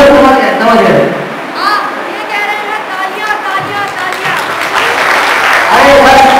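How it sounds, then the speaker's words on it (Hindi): Audience applause and crowd noise at a Hindi drama competition, a sustained loud wash of clapping with chatter and children's voices mixed in throughout. "तालियां तालियां तालियां"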